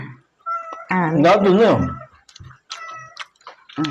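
A cat meows close by, a long wavering cry followed by a few shorter mews, with quiet gaps between.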